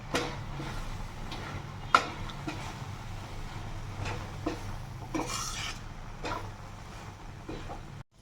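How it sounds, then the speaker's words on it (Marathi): Grated coconut is stirred in a pan over a low flame for coconut burfi, a spatula scraping softly with occasional light clinks against the metal, quiet and close. "याला छान आपण मिक्स करून घेणार आहोत"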